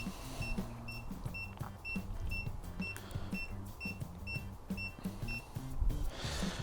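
Blinkers on an Evercross EV10K electric scooter switched on, producing a steady train of regular ticking beeps about twice per second over a low background hum, close and fairly quiet.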